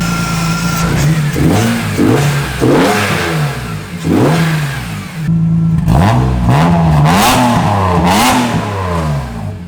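A tuned BMW 335i engine revs repeatedly, rising and falling in pitch with a loud, throaty roar close by and no talking.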